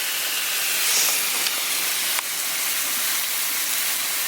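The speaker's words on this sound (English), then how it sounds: "put the shrimp in the pan" Shrimp cooking in a hot pan give off a loud, steady hiss and sizzle that runs without a break, with a couple of faint clicks partway through.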